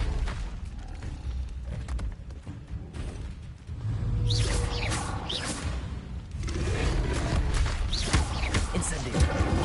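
A fire spell is cast in the Hogwarts Legacy video game: a dense burst of whooshing, booming game effects that swells around four seconds in and stays loud, mixed with other in-game sound and music.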